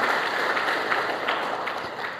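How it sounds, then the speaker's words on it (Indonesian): A church congregation gives a sustained round of applause during a sermon, a steady, moderately distant wash of many hands clapping without pause. "Tepuk tanganlah yang terbaik buat Tuhan."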